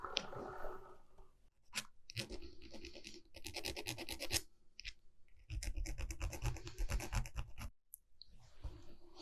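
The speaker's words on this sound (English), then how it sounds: "I'm just finished off filing and sanding that" A file scrapes in short, irregular bursts over a casting mark on a small model ship part, close and dry, with brief pauses between strokes and no talking.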